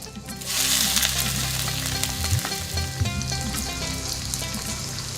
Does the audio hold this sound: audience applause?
no